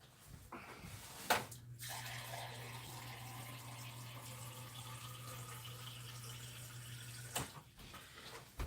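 Steady stream of water running from a tap or being poured for several seconds, a constant rushing hiss with a low hum beneath, bracketed by brief clunks at the start and end, fairly quiet and close.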